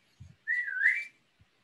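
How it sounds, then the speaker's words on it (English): A single person whistles one bright, rising-and-falling note lasting under a second, heard alone in a quiet indoor space, with a soft thud just before it and another faint thud after. "I whistled."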